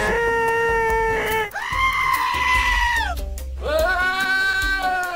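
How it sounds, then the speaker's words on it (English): A goat in the video game Goat Simulator lets out loud, drawn-out human-like screams, two long bleating wails separated by a short gap, close and harsh. "That's the goat screams."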